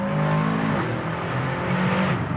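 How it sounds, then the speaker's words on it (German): An Aston Martin DBX707 SUV accelerating hard, its engine roaring loudly and steadily with turbochargers audible, pitch climbing and shifting throughout. "Du hörst die Lader vorne und wie du die hörst"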